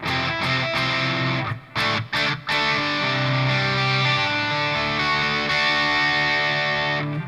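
Sustained, full electric guitar chords through a driven Revv G120 MK III amp, ringing continuously with a few brief breaks and a light room reverb ambience.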